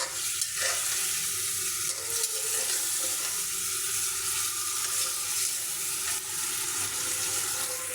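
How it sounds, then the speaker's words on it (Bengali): Meat and potatoes being stir-fried in spices over a low flame, a continuous sizzle with repeated spoon scrapes and stirring clatter close by, no talk. "আস্তে জালে আর কি কষিয়ে নিচ্ছি"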